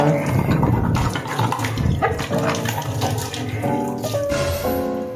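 Running tap water splashes steadily into a sink, a continuous rushing stream with some clinking, close by and fairly loud.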